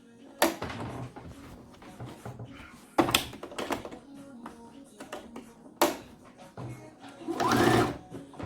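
A sewing machine top-stitches the neck facing of a gown, running in several short close bursts with brief pauses between them. A longer, busier run comes near the end.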